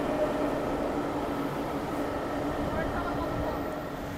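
A Chennai Metro train passes, heard as a steady, moderately loud rumble and rail roar that holds evenly throughout, with no clear voices over it.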